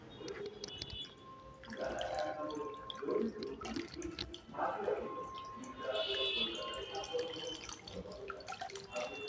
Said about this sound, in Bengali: তারপর জলটা ফেলে আমি জল চেঞ্জ করব